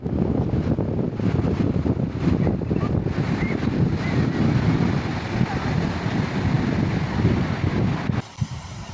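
Sea waves at Kuakata beach make a steady, dense roar of surf mixed with wind that carries on without a break, then drops away abruptly near the end.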